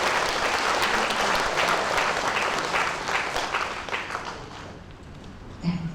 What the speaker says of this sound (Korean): 다시 한번 뜨거운 박수